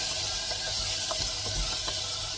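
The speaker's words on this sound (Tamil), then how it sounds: "சேர்த்து நல்லா கழிந்து வதக்கி விட்டுறோம்" Ground tomato being sautéed in a pressure cooker for a snake gourd stew, giving a steady soft hiss and sizzle with a few faint clinks of stirring.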